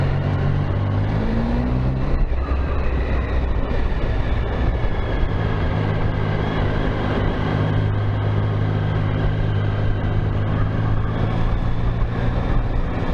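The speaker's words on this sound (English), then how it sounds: "Yeah, they're whistly, aren't they, these engines?" Triumph Tiger Sport motorcycle engine heard while riding, a steady loud drone with whistling tonal layers that hold and shift slightly in pitch over wind and road noise, no talking.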